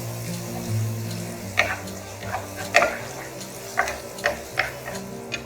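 Chopped onions stirred on a hot tawa in a pulao recipe, with soft sizzling and irregular scraping taps of a spatula against the pan, close and moderate in level over a low background hum.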